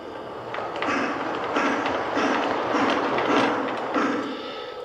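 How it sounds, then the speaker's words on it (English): Lionel model train set locomotive pulling forward on its track, producing a steady mechanical rumble with rhythmic clicking and whirring of gears and wheels, continuous and fairly close. "And you can pull the locomotive forward."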